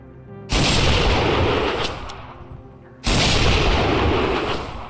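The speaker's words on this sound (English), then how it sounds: "There are sometimes if I do a follow-up shot, I'll hear a click and then a bang like a second later." Two heavy booms from a Lahti L-39 anti-tank rifle in a video game, about two and a half seconds apart, each loud with a long rumbling tail; no separate click stands out before either shot.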